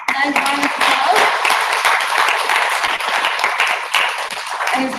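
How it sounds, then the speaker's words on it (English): Temple audience applauding children on their last day of Sunday school, a loud, steady burst of many hands clapping with voices mixed in underneath. "Let's give them a very nice round of applause."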